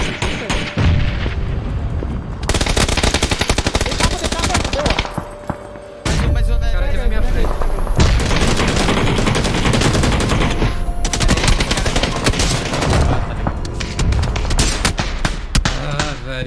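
Gunfire in PUBG, dense bursts of rapid shots and booming reports that keep coming loud and close, with a short lull in the middle and a voice talking now and then under the shooting.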